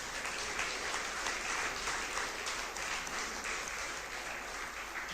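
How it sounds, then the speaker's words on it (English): Audience applause for school faculty, principal and staff at a college alumni reunion, a steady, dense clapping that continues without a break throughout. "Give them a big round of applause, please."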